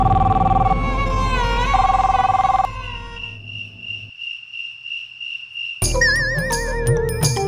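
A phone rings unanswered in a Hindi drama scene, its pulsing electronic ring sounding after a stretch of background music, before another loud burst of music cuts in.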